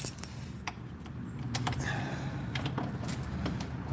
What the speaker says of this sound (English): Got so many keys on here, it's untrue.